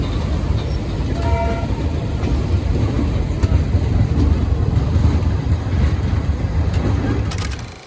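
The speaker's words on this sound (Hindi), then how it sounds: "फाइनली अपनी ट्रेन का डिपार्चर हो चुका अपनी सरायगढ़ जंक्शन रेलवे स्टेशन से" Garib Rath special train pulling out of Saraigarh Junction, a loud continuous rumble of rolling coaches with wind buffeting the microphone and a brief tonal squeal partway through.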